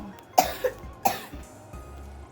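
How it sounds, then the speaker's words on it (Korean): A child coughs three times in quick succession, fairly close, followed by a couple of softer throaty sounds and quiet background. "기침 많이 해요"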